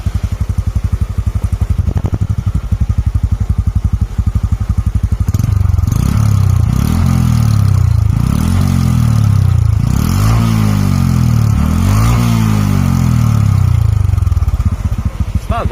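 A 2023 Honda CT125 Cub Hunter engine idles steadily, then gets throttled up in a series of repeated revs, each swelling and falling back, loud and close with no talking.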